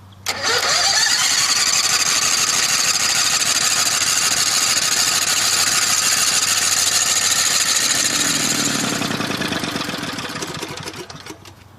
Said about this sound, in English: they've done everything they realistically can to make the lawnmower run on biogas